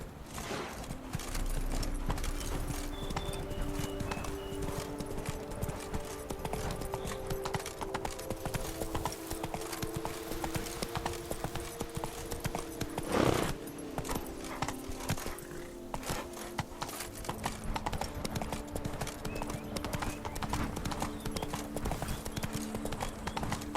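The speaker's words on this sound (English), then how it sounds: "Whoa there, Roach." In The Witcher 3: Wild Hunt, a horse gallops along with fast, continuous clip-clop hoofbeats at a quiet, even level, joined by a faint game soundtrack and ambient noise.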